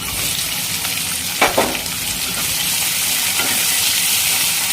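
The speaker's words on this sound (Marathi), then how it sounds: "त्याच्यामध्ये एक कांदा टाका बारीक, तोही छानपैकी परतून घ्या." Chopped onion sautéing in oil for a Maharashtrian garlic-fenugreek dish, giving a steady, close broadband sizzle with a couple of brief stir clatters, and no voices.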